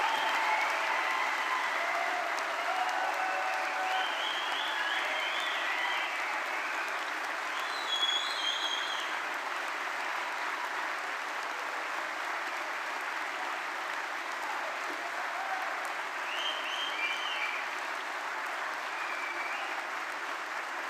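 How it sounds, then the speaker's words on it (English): A graduation ceremony audience applauds its new graduates in a large hall. The clapping is steady and sustained from a big crowd and carries on evenly for about twenty seconds, with no voices over it. "please give a thunderous round of applause to celebrate our exceptional new graduates"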